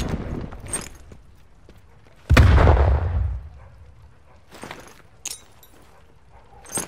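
Fragmentation grenade detonation in an objective-defence video game: one loud, sudden blast with a long rumbling low tail, set among scattered gunfire and clicks before and after.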